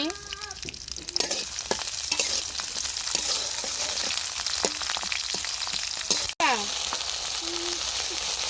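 Chopped onion and green chili fry in hot oil with a continuous close crackle and sizzle. A spatula scrapes and taps throughout, and a brief quiet gap appears near the end.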